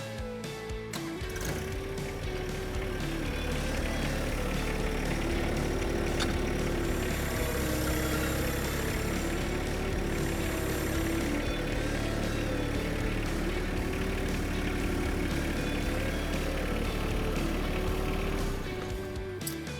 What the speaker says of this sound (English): I'll jump right back onto the tractor, fire it up, and drive over the deck backwards